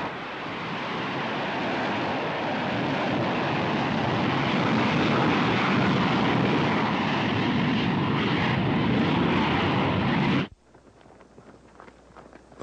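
B-52 bomber engines roar in a loud, dense, steady drone that swells slightly and then cuts off abruptly near the end, leaving quiet background.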